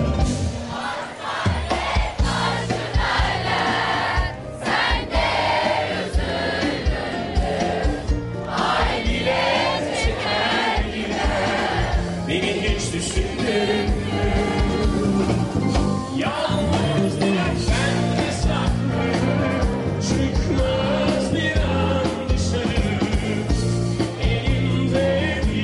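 A concert crowd sings along loudly at a show in Kuşadası, a dense mass of voices over backing music, continuous and full for the whole stretch.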